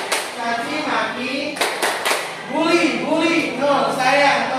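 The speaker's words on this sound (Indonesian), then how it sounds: "kasih tepuk tangan" A classroom of students claps together in a short burst of applause, while children's voices and talk carry on over and around the clapping.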